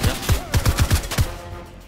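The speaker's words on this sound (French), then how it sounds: "Ok, ça tire là-bas." Rapid bursts of gunfire in the video game Fortnite, about eight sharp shots in an uneven rhythm at moderate loudness, fading into a quieter tail.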